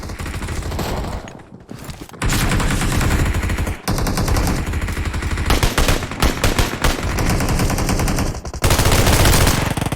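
Loud, near-continuous automatic gunfire fills a PUBG Mobile match, with rapid rattling bursts barely pausing, a short lull early on and heavy overlapping fire to the end.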